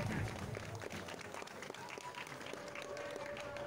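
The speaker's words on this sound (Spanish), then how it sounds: "Brindándole un fuerte aplauso a mi señor padre" Crowd applause at a live regional music show honoring a late father, distant and faint, a dense patter of clapping mixed with crowd noise and a voice over it.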